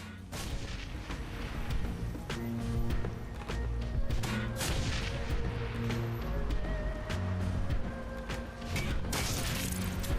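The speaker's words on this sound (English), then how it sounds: "Grenade launch here." Grenade launcher fire in the tactical game Shadowrun: Hong Kong: repeated booming launches and blasts in dense succession, layered with heavy mechanical clanks and low rumbling impacts over continuous battle noise.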